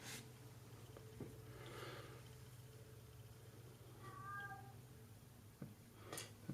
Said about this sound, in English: You guys probably hear my cat.